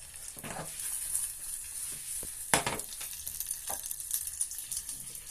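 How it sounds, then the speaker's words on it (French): Butter and chocolate melt together in a pan for a children's chocolate cake, giving a soft, steady sizzle with occasional stirring scrapes and a sharper clink near the middle, close by and without talk. "le beurre il est en train de fondre avec le chocolat"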